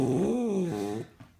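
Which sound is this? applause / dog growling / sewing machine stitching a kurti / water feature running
dog growling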